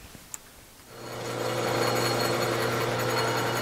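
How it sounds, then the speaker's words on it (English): A hole saw bites into a 3/8-inch steel faceplate for a 1931 South Bend lathe at slow speed. After a few faint clicks it starts up and settles into a loud, steady grinding whine with a low hum underneath. "It always amazes me that a hole saw can cut through 1/2 inch steel."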